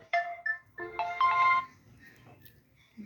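A phone ringtone plays a short bright electronic melody in two bursts, then fades, with quiet background between notes.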